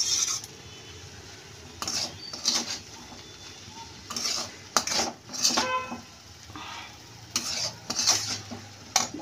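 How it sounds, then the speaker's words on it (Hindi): A spoon stirs a potato and peanut mixture with spices in a pan. Repeated scraping strokes come in uneven bursts over a faint background sizzle, close up, with no speech. "मिला लेंगे सारी चीज़ों को।"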